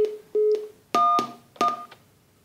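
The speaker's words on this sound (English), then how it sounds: "I try to call another phone, so I will press 11" Telephone keypad tones as numbers are pressed on a handset, a few short beeps and then three louder two-tone presses in quick succession, close and clear with no talk.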